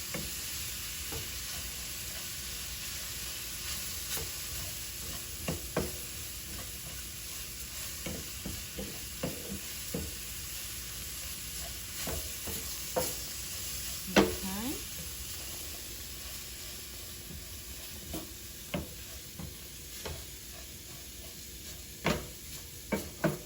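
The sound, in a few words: rice toasting and being stirred in a pot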